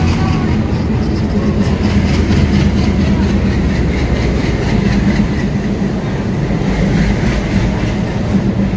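A train rolls past a railway station platform, its steady, loud rumble and clickety-clack of wagon wheels filling the whole stretch without pause.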